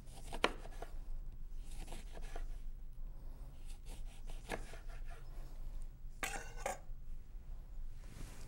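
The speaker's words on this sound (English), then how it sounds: "What I'm doing here is slicing some lemon slices that I will use as a decoration." A knife slicing through lemons on a cutting board, giving several soft, scattered cutting strokes and brief clinks at close range over a low steady background hum.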